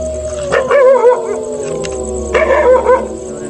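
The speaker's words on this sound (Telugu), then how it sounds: "కుక్కలు కూడా ఎలా మురుగుతున్నాయి అన్న, వినిపిస్తుందా?" Dogs howl at night near a rocky hill, giving two long, wavering howls that rise and fall, loud and close with no talking.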